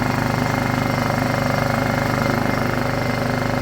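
A Honda EU2000is portable inverter generator runs with its airbox removed, giving a steady, loud, raspy engine drone with an even rapid pulse that holds unchanged throughout.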